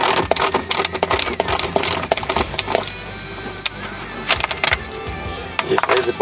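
Bolts dropped one after another into the bottom of a Harley-Davidson Ultra Classic tour pak, sharp metallic clinks and rattles close by in a busy, irregular cluster.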